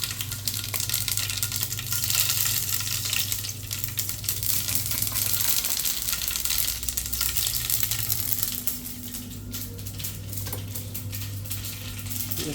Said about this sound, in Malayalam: കടുക് ചെറുതായിട്ട് പൊട്ടണ വരെ ഇളക്കി കൊടുക്കാം